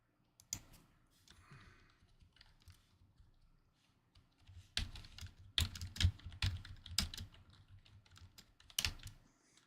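Rapid clicking keystrokes on a computer keyboard, close and fairly quiet, in uneven bursts with short pauses and denser typing in the second half.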